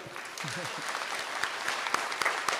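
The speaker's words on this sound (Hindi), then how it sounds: "बाकी लोग नहीं दिख रहा तो तालियां बजा दें।" A seated crowd at a spiritual darbar gathering claps in sustained, close applause, with a voice heard briefly at the start before the clapping carries on to the end.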